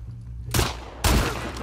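Two heavy, booming gunshots about half a second apart in The Last of Us Part 2, each a sudden loud blast with a lingering echoing tail.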